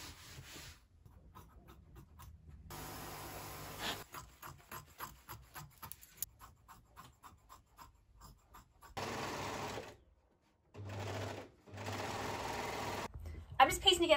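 A sewing machine stitches a sleeve for a fairy wedding dress in bursts of rapid whirring, with runs of short stitches broken by pauses and steadier louder stretches near the end, heard close.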